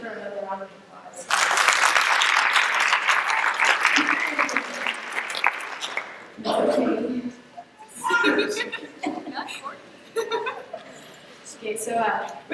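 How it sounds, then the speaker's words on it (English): An audience at an end-of-year school speech event bursts into applause, a loud crowd clapping for several seconds before a speaker talks again with scattered claps and light laughter between phrases. "can you guys give her another round of applause?"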